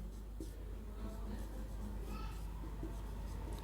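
Pen scratching on paper while handwriting notes during a chemistry lesson, a faint steady scribble under a soft background hum.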